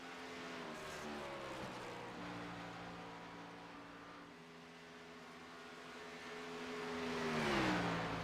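NASCAR stock cars race at Chicagoland in the iRacing video game, a sustained engine drone whose pitch falls and climbs as the cars run the oval, swelling louder near the end.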